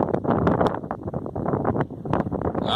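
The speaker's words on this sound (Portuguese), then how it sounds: "Hoje tá ventando bastante, não vai dar pra mim gravar muita coisa não" Strong wind buffets a microphone beside a rural reservoir, making a loud, continuous rumbling roar with gusty surges and no speech.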